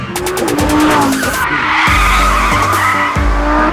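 A Lamborghini Huracán LP 580-2 braking hard from high speed on a race track, loud tire squeal and skidding over the engine as it downshifts in several sharp, stepped blips.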